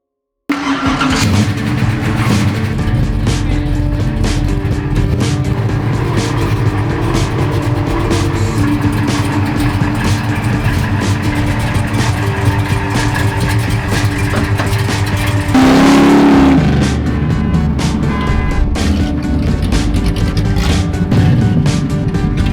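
A 1968 Plymouth Roadrunner engine starts and runs with a loud, steady rumble close by, rising into a brief rev before settling back to a throaty idle.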